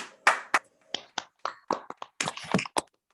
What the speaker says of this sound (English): I want to give them a round of applause for sure